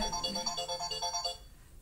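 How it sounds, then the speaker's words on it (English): A mobile phone ringtone plays a quiet repeating electronic melody in the background of a Pilates class, pulsing in short notes before stopping. "Sorry, my phone's just going."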